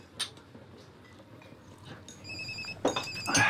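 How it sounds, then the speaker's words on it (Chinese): A phone ringtone chimes in short repeated electronic tones, fairly close and clear, with faint background movement and no talk during the ring. "对了，小明啊， 接电话。"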